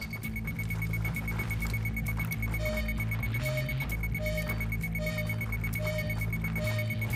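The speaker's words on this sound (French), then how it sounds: "t'as déclenché une alarme en piratant l'ordinateur" A repeating electronic alarm tone, triggered by hacking a computer in Ghost Recon Wildlands, pulses in a regular rhythm over a dense, busy synthetic backdrop with no voices.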